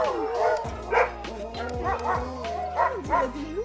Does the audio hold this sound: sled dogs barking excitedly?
yes